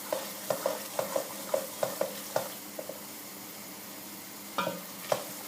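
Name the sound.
Tunisian mloukhia sizzling as it fries in hot oil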